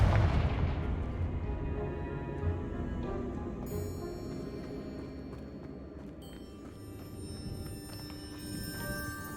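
A fire spell blasts in Hogwarts Legacy as a loud, booming explosion bursts in at the start, then rolls into a long rumbling decay under layered game music and shimmering effects.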